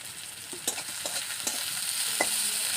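Green chillies dropped in among frying onions in a pan for a fish-head dish, giving a steady close sizzle with a few sharp crackles and stirring scrapes; no talking.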